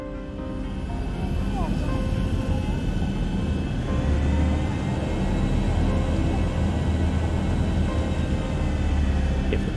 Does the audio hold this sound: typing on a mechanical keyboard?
no